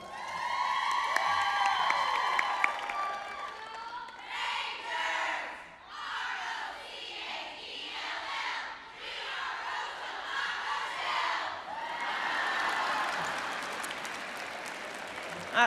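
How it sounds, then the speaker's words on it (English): An elementary school crowd at a convocation roll call cheers and shouts in a big hall, starting with a loud swell of voices that breaks into sustained applause and whooping, rising again near the end. "I think that's the best cheer so far."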